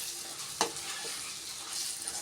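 Ground pepper and cumin masala frying with onion and tomato for a crab curry, a steady close sizzle with one sharp spoon scrape and a softer stir later, no voices.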